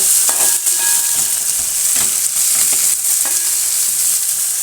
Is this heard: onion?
yes